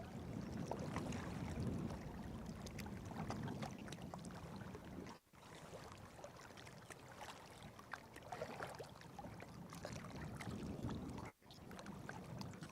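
A small boat moving on water during a fishing and camping outing gives a faint, continuous wash of water and wind noise, briefly cutting out twice, with no talking.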